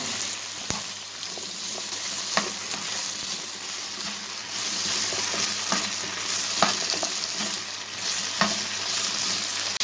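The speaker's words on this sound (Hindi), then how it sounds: "इसके साथ ही हम ये शिमला मिर्चें ऐड कर देंगे 5 मिनट हम इसे भी फ्राई कर लेंगे" Chicken and bell peppers fry in a pan with a continuous sizzle, punctuated by occasional sharp scrapes and clinks of a utensil stirring the food.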